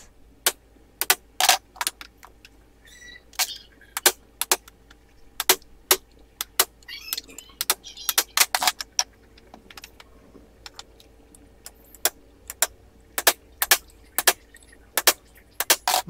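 Repeated sharp metallic strikes of a hammer on a bearing race for a motorcycle triple tree fitting, irregular single blows spaced a second or so apart, close and crisp over a quiet workshop background.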